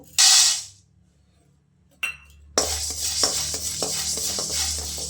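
Black pepper being dry-roasted in a pan over low heat: a short loud hiss, a quiet gap, then steady close scraping and rattling from stirring with light clinks.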